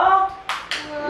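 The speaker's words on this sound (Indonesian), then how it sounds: "Yeay, tepuk tangannya." Two short bursts of hand clapping between a child's colour-guessing answers at home, each clap quick and fairly loud, with faint voices around them.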